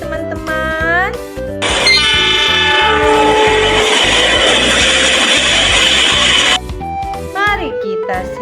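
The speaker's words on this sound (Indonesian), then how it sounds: "Ada kereta api, teman-teman." Toy train sounds: a loud, sustained horn or whistle tone holds for about five seconds over a steady rhythmic chugging, with a child-like voice speaking before and after.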